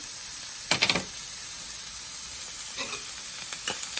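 Salt, paprika powder and spices being stirred into a frying hot and sour soup base, a steady close sizzle and hiss of hot oil with a few clattering scrapes of a utensil stirring the pan.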